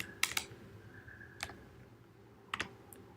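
Computer keyboard typing a terminal command, a few quiet, sharp key clicks in small clusters separated by pauses, close and faint with no voices.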